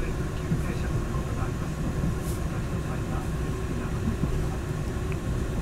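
Passenger train running on the line just after leaving Minami-Chitose station in Hokkaido, a steady rumbling roll with rhythmic wheel clatter heard from inside the carriage, continuous and moderately loud throughout.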